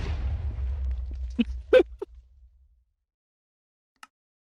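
A lucky block blows up in Minecraft, a muffled blocky blast whose rumble fades over a couple of seconds, broken by several sharp pops and a last isolated crack.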